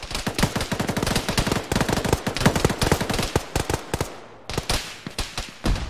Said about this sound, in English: One's taking cannon fire of some kind.